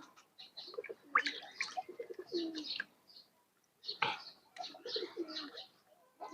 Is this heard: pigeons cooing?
yes